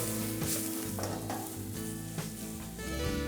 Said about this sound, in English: because we want to stir fry them